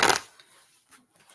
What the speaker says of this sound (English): My hands are slightly small to shuffle a deck this size.